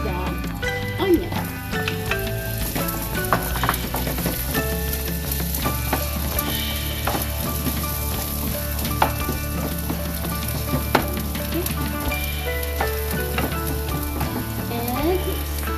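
Onion and garlic sizzle steadily in a pan for the whole stretch, partly masked by a bright tonal music bed and a voice talking over it.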